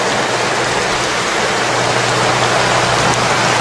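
Steady, heavy rain falls in a wartime battlefield setting, a loud, continuous broadband hiss with no pauses and a faint low hum beneath it, with no voices present.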